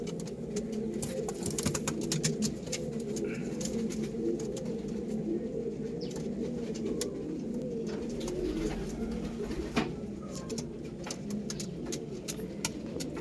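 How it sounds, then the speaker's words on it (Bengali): Four domestic pigeons, two males and two females, coo softly and continuously close by, low throaty warbles overlapping, with faint traffic rumble in the background. "চার পিস পায়রা দেখুন প্রতিটা পায়রা বাড়ির পায়রা দেখুন"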